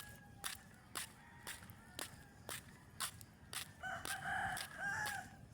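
A rooster crows loudly nearby, its call swelling near the end, while jogging footsteps on a court thud in a steady rhythm underneath.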